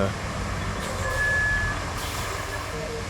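Reversing beeps from a DLC dump truck in the video game RoadCraft, heard as a thin steady tone over a continuous truck engine rumble; a voice speaks faintly in the background.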